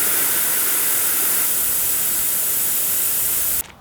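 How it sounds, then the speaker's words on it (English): Air hissing steadily out of a fat bike tire as an Allen wrench presses the valve stem, loud and close, then cutting off abruptly near the end. "Select a small Allen wrench to push on the valve stem to let the air out of the tire"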